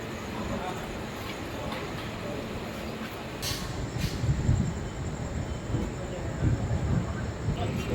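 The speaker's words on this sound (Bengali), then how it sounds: "ঠিক 3 মিনিট হল্ট করার পর 2 নম্বর প্ল্যাটফর্ম থেকে ছেড়ে দিল আমাদের ট্রেন নিউ জলপাইগুড়ির উদ্দেশ্যে।" Passenger train pulling out of platform 2 bound for New Jalpaiguri, a continuous low rolling rumble with occasional heavier clunks and bumps, heard from on board.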